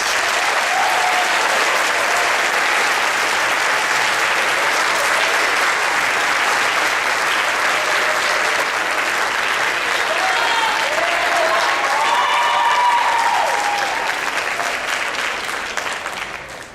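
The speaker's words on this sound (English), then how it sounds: "Families and students, please join me in giving our staff members a big round of applause" Sustained audience applause for school staff at an 8th grade bridging ceremony, steady dense clapping from a large crowd lasting throughout and tapering off at the end, with faint voices mixed in.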